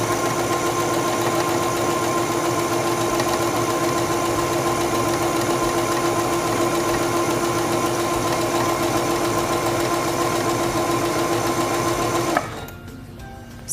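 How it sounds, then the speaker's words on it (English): A Singer 7258 computerized sewing machine stitches a serpentine stitch at default settings, a steady, loud mechanical whir with rapid needle clatter running nonstop for about twelve seconds before cutting off. "Let's stitch that out at the default settings."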